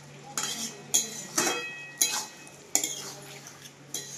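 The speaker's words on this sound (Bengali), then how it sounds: "এই বড়িটা দিয়ে নিয়ে এবারে কিছুক্ষণ আমি এভাবে চলাবো" A spoon scrapes and clinks around a pan while onion-stalk posto is stirred together with fried bori, a string of sharp metallic knocks with quieter scraping between them.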